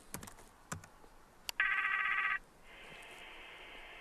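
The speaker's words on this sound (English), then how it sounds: "I simply have to open the application and dial Lee's number" A satellite video call over an Inmarsat BGAN terminal rings out after the number is dialed: a few key taps, then a loud electronic ring burst lasting under a second, followed by a softer steady ringback tone, close up.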